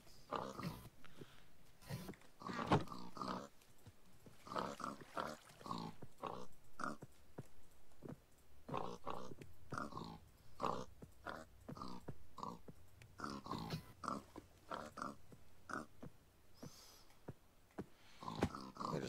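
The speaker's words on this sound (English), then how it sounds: "Pigs are annoying." Pigs crowded together in the Minecraft game Skyblock, giving a steady run of repeated oinks and grunts throughout, many overlapping at close range and fairly loud, with no speech.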